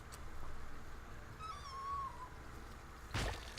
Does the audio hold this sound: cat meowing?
yes